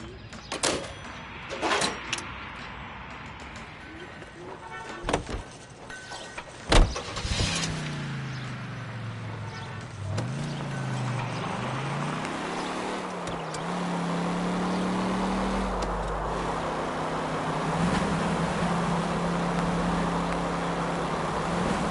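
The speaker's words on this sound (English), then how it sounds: "Driving." A car in the L.A. Noire video game: a few sharp clicks and thumps, then an engine starts and revs with rising and falling pitch, settling into a steady driving drone with no talk.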